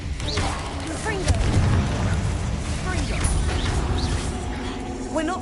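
Fiery Confringo spell blasts in the game Hogwarts Legacy, several booming impacts and crackling bursts spread through a busy battle mix, with talk running over them.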